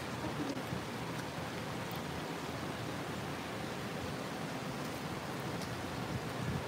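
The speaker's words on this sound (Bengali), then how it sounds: "মক্কা শরীফে বৃষ্টি হচ্ছে," Heavy rain pours at Mecca as a dense, steady roar of falling water, even and unbroken throughout, with no voices.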